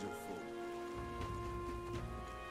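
Rainfall in the video game Metaphor: ReFantazio, a steady hiss of falling rain mixed under the game's tonal music and ambience, with a voice speaking over it.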